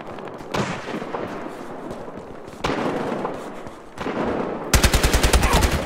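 Gunfire in Battlefield Hardline with the SA-58 OSW rifle, loud bursts and scattered distant shots that end in a close, rhythmic rapid-fire volley of about a dozen evenly spaced rounds.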